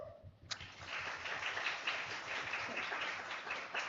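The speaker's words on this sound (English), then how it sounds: "let's give a quick round of applause" Audience applause at an engineering meetup on payments breaks out suddenly and holds as a dense, steady wash of clapping from a large crowd welcoming a speaker to the stage.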